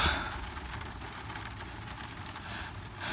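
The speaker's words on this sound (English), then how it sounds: "I love hearing the thunder and the the rain coming down on the roof." Rain drumming on the roof of a van during a thunderstorm, a steady soft hiss of drops heard from inside, even and continuous with no talking.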